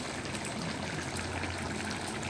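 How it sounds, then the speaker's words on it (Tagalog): Water pours into a simmering pot of ginataang papaya, a steady close splashing trickle that runs evenly throughout without talk. "Dadagdag ako ng tubig."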